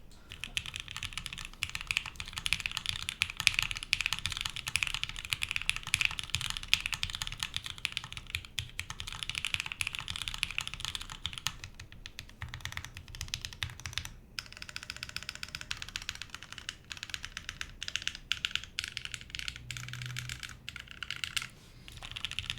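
Steady, fast typing runs throughout on a TGR Dolice mechanical keyboard with tactile switches, a dense run of close, full clacky keystrokes with short pauses and a faint background hum.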